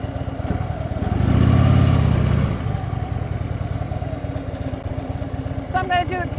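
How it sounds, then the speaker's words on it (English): A motorcycle pulls away from a stop into a tight U-turn: a close engine idles, swells into a brief throttle rise, then settles back to a steady low rumble. "So I'm going to do a tighter turn this time from a stop."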